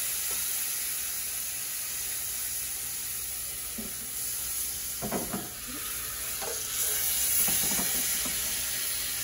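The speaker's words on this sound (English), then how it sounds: "It's gonna sizzle." Couple tablespoons of water poured into a hot pan of crispy wontons, giving a steady bubbling sizzle and steam hiss with a few louder spattering bursts, close by and without talk.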